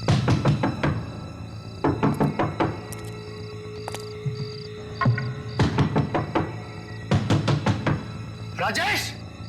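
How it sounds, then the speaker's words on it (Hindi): Repeated knocks on a door in bursts of rapid thuds, loud and close, sounding under a tense scene with background music and a few voices nearby. "तुम यहां खड़े रह के लगातार दरवाजा नॉक करते रहो"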